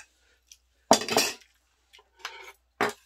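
Dishes being washed in a home kitchen: a few short bursts of clinking cutlery and clattering crockery with quiet gaps between them, close by and with no voices.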